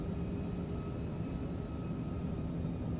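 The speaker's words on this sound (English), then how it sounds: "Once the engines are running, it sounds pretty good." Airbus A340 engines run steadily in a flight simulator, a continuous low jet rumble with a faint whine above it, even and unbroken throughout.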